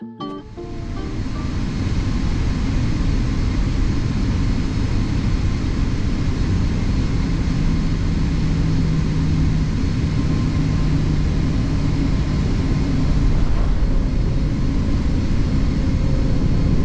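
Inside an airliner cabin descending before landing on a hop from Stockholm to Norway, a loud, steady broadband engine and airflow roar fills the space without a break.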